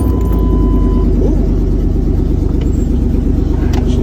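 A 1999 Chevy Suburban engine running loud and close right after starting, a steady rumbling idle with a throaty, even pulse throughout.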